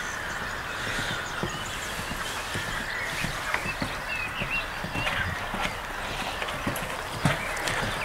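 A horse canters during a dressage test at a show, its hoofbeats coming as steady soft thuds over a wide open arena ambience, moderately distant and without talk.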